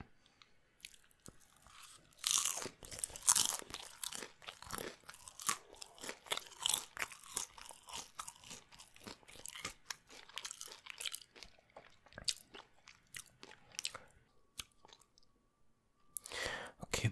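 A crunchy Taco Bell Taco Supreme is bitten and chewed up close, sharp crisp shell crunches repeating in quick irregular bursts with wet chewing between, pausing near the end before a final loud crunch.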